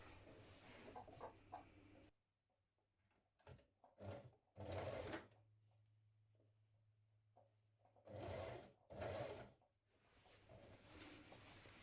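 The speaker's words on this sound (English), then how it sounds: "we're going to stitch that seam again, this time" A sewing machine stitching a seam in short bursts, a busy mechanical whir that starts and stops several times with quiet pauses and handling between runs.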